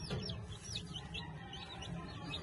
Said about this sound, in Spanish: Súper pollito, mírenlo ahí.